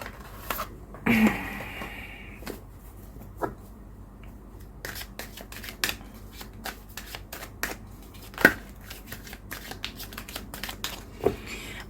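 Tarot cards being shuffled by hand in a quiet room, with scattered soft riffles and sharp slaps of card edges at irregular intervals, close and fairly faint.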